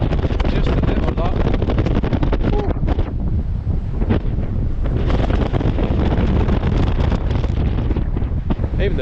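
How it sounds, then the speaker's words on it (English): Strong wind in Shetland buffets the microphone in loud, rumbling gusts that roar continuously, with a moment of slight easing partway through. "it's a bit windy, just a little lot"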